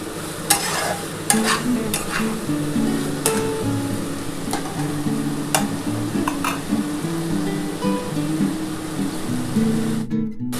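Potato and okra with poppy seed paste being stir-fried in a pan, a steady sizzle under repeated scraping stirs and occasional sharp utensil knocks against the pan, close and continuous throughout.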